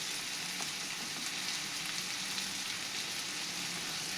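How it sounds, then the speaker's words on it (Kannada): Onions and spices frying in oil for a chutney, a soft, even, rain-like sizzle at moderate distance that runs steadily without pauses or talk. "ಎಲ್ಲ ಇದ್ರಾಗ ಫ್ರೈ ಮಾಡೋಣ್ರಿ."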